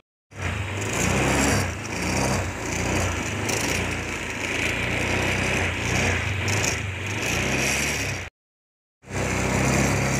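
A small motorcycle engine runs after a home battery repair, holding a close, buzzing, high-pitched idle. It cuts out briefly near the end and then starts running again.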